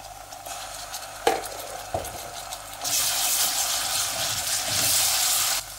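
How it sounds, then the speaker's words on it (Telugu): Ginger garlic paste hitting hot oil with fried onions and spices for mutton paya curry, a spoon scraping and clinking against the pot before a loud, steady sizzle rises and holds. "ఇప్పుడు ఇందులో 2 టేబుల్ స్పూన్ల జింజర్ గార్లిక్ పేస్ట్ యాడ్ చేయాలి"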